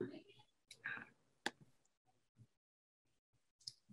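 Computer mouse clicks come in a few sharp, faint, close ticks scattered between quiet gaps while someone talks softly in a software tutorial setting.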